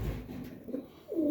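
Close, soft pigeon coos from domestic homer pigeons in a loft, a low murmuring call building to a louder rolling coo near the end, with no talk.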